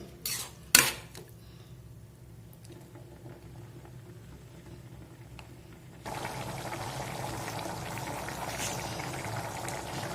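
Bottle gourd and black-eyed pea gravy in a pot: after a clank of metal utensils near the start, a soft simmering bubble continues, swelling into a louder steady boil over the later seconds.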